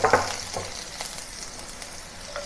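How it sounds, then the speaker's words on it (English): Ginger, garlic, the white part of green onion and dry chili sautéing in hot oil, a soft steady sizzle with a few light stirring clicks, close and without talk. "Saute it for about half a minute or until it starts to turn aromatic."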